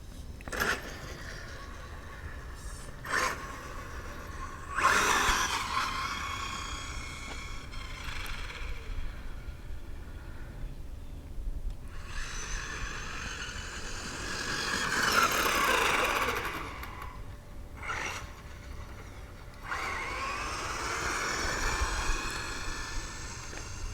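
A Losi Tenacity 1/10 4WD brushless RC short course truck runs up and down a driveway, its motor whining in several rising and falling passes that swell loud as it nears and fade away.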